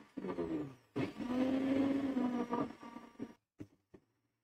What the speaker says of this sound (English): The blender needs water to grind.